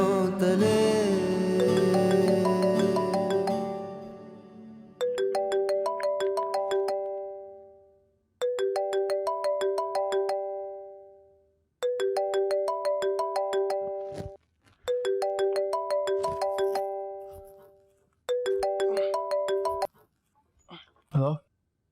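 A phone ringtone with a bright, chiming melody repeats in five clear bursts separated by short pauses, following louder music at the start in a tense scene from a Pakistani TV drama.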